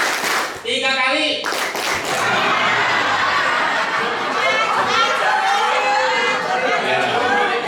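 A staff gathering at MAN 1 Brebes claps in counted rounds: sharp unison claps on cue, then sustained loud group applause mixed with chatter and some chuckling.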